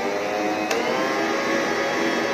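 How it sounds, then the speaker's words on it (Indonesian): An electric stand mixer runs at speed 3 kneading wet, sticky bread dough, giving a steady, loud motor whir with no break and no talk. "Ulang mixer lagi."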